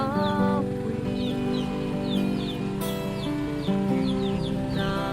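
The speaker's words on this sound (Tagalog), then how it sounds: "Pagkagising mo sa umaga'y maririnig mga ibon" Morning birds in a rural province give short, high chirps that repeat every second or so, fairly faint beneath a steady, sustained musical background.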